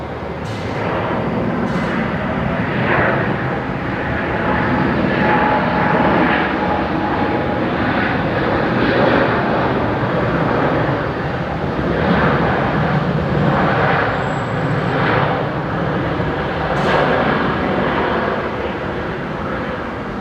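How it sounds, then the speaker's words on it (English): An Airbus A321neo jet airliner on runway 01 right at Brisbane Airport at night, a loud sustained engine roar close by with a pulsing, slightly fluttering texture and occasional high whine streaks over twenty seconds. "Looks like a 321 Neo"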